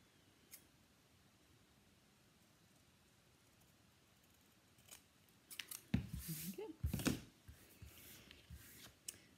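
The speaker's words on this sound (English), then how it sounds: "so we'll use the large scissors again and just cut that out" A large pair of scissors cuts through card stock for a handmade card, a few crisp snipping strokes close by after a quiet stretch, with faint handling noise.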